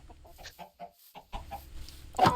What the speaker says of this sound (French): Il y a des poulets là-bas.